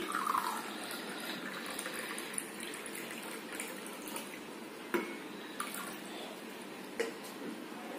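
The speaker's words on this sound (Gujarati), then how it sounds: "એ વોટર તમારે કિનારે સુધી ફૂલ કરવાનું છે" Hot water is poured into a glass and filled to the brim for a simple classroom science experiment. A quiet, steady trickle with a few faint clinks and splashes sounds close by.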